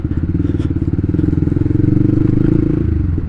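A motorcycle engine labors and drones loudly nearby, struggling for power, its pitch holding low as it strains, with a brief clatter early on.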